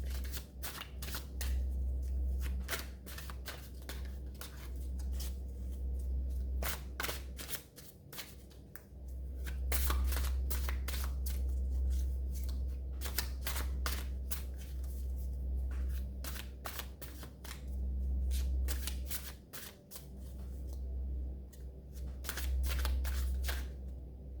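Tarot cards shuffled steadily for a tarot reading, with soft riffling and rapid papery flutters repeating in bursts, close and quiet, no talking.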